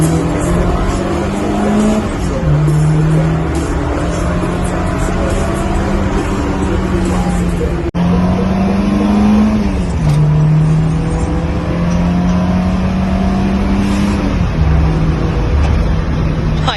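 A 41-year-old Volkswagen Golf MK1 GTI is driven hard, its engine droning loud and close throughout with short dips in pitch at gear changes and a hint of tyre squeal.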